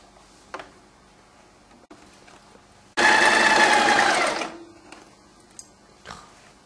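A sewing machine stitches the shoulder seam of a piped vest in one loud, fast whirring burst of about a second and a half, framed by quiet handling clicks and rustles of fabric before and after.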